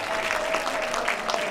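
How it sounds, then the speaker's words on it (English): A crowd at the Mr DC 2022 pageant applauds all twelve contestants. The clapping is loud and continuous, a thick wash of many hands with no pauses. "give all 12 of our contestants a round of applause"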